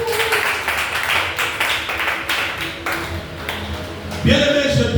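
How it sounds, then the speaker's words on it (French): A church congregation at an evangelistic service applauding and cheering for the Lord, with rapid rhythmic clapping and a continuous murmur of voices, followed by a rising sustained tone near the end. "acclame encore pour le Seigneur"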